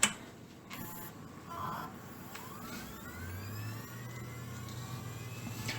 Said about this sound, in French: Donc on va pouvoir démarrer la machine.